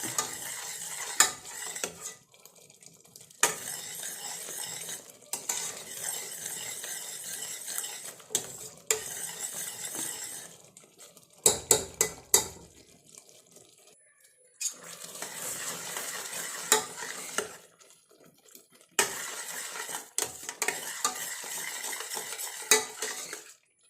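A ladle scrapes and stirs payasam in a metal pot in long repeated bursts with short pauses, clinking against the sides over a faint simmer, close by.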